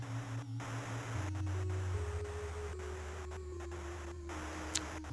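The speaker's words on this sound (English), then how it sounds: "White noise." Steady hissing static fills the scene in the horror video game You Will Not Remain, with a low droning hum beneath it and a brief faint high blip near the end.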